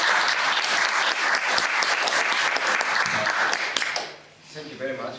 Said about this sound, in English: So let's give a warm applause to him.